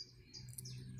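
Short, faint bird chirps, a few high tweets in quick succession over a low background hum.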